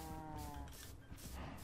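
Cows mooing in Minecraft: low, drawn-out lowing calls that overlap and repeat across the moment, moderately loud and with no talking.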